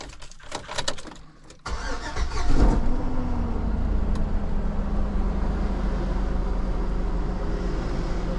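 A salvage auction car is cranked with a starter whirr and fires up loudly, then settles into a steady, close idle for several seconds.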